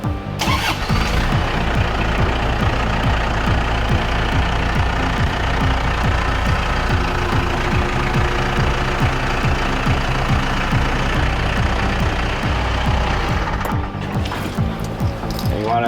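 A Case IH Farmall 45 tractor's diesel engine runs loudly and steadily up close, with a rough, knocking mechanical rumble throughout.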